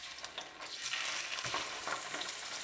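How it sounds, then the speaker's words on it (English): Four links of sweet Italian sausage hit hot oil in a pan, a soft crackling sizzle that swells to a steady hiss with faint spatters, fairly quiet and alone. "With all that oil still in the pan, I'm going to go ahead and add in 4 links of sweet Italian sausage."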